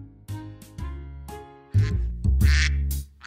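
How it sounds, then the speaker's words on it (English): A duck quacks in a children's animal-sounds song, the calls standing out over musical backing in a few loud bursts. "Ooh, a duck."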